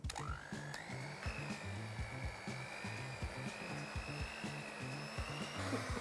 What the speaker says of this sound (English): So I've got my trusty hand mixer,